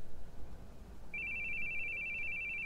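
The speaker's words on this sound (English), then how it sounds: "Your phone's ringing." A phone rings with a steady electronic tone that starts partway through and continues unbroken to the end, fairly clear over a quiet room hum.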